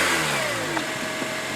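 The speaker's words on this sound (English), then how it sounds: "Turn this car on and see how it sounds." A 2006 Acura RSX Type S engine runs and revs briefly after starting, a steady close mechanical hum with a rising note.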